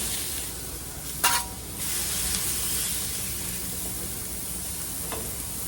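Smash burger patties of about two ounces sizzle steadily on a Blackstone griddle, a constant close hiss with a brief scraping clank of a spatula early on and a faint tap later.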